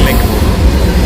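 A goods train rolls along the railway tracks in the Trivandrum South area, giving a short burst of loud, close, continuous rumbling.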